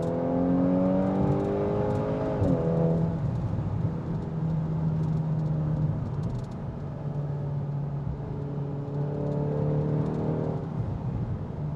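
A 2025 VW Golf R turbocharged engine pulls hard under acceleration, its loud, steady drone climbing in pitch through the revs, dipping briefly at a shift and then rising again, with no talking.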